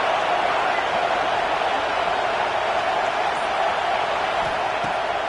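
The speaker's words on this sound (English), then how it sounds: "this crowd getting behind its defense" Football stadium crowd roaring for the defense on first down in the red zone, a steady loud wash of massed voices that holds without pause throughout, with a commentator's voice faintly under it.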